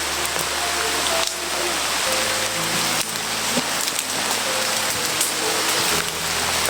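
Steady rain pours down outdoors, a dense continuous patter on surfaces with a low rumble beneath and a few faint knocks.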